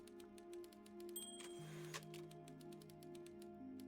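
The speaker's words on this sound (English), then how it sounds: "I'm typing away." Typewriter keys clacking in the video game Before Your Eyes, a brisk regular train of crisp strikes over a steady humming musical backdrop, close and moderately loud with no voices.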